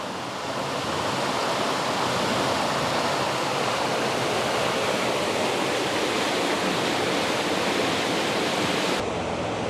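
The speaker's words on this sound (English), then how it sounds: "that is the big spring coming right out and just flowing away" A big spring gushing out of the ground and flowing away, a loud, continuous broadband rush of water that stays steady and close throughout, with no voices.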